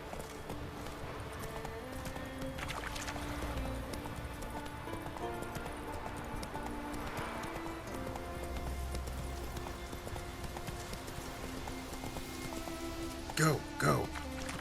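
Roach the horse galloping in The Witcher 3, rhythmic hoofbeats on the ground under steady ambient game sound and music, with a louder clatter near the end.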